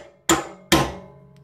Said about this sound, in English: grab our little special magic hammer, that's your copper hammer. Give the end of the shaft a whack